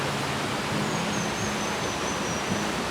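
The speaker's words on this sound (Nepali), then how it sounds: "झर्ना आइपुग्यो" Steady, dense rush of falling water from Sursing Waterfall in Sindhupalchowk, Nepal, fills the whole clip, a constant broadband roar without pauses or voices.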